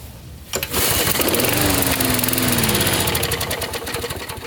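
A lawnmower engine catches after a brief pull and settles into a loud, steady rough running drone with a rattling, uneven rhythm, recorded close up.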